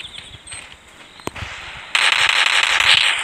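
Gunfire in the mobile battle royale game Free Fire, with a sharp shot or two early on, then a dense burst of loud crackling shots at the end, heard without talk.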